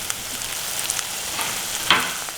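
Egg sizzling in a hot pan while street-style egg rice is cooked, a steady close frying hiss with faint stirring clicks and a brief louder crackle near the end.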